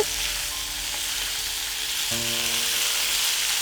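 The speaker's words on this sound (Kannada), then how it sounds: "ಹಾಗೆ ಒಂದು 2 ರಿಂದ 3 ನಿಮಿಷ ಈ ಎಣ್ಣೆಯಲ್ಲೇನೆ ಇದನ್ನ ಹುರ್ಕೋಬೇಕು" Ivy gourd fries in oil with a bright, steady sizzle that fills the whole stretch. Faint tonal hums and a brief clink sit beneath it, and nobody talks.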